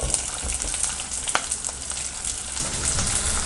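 Large onions frying in oil for a village-style mutton kuzhambu, a steady close crackling sizzle running throughout with a sharper pop near the middle, no voices.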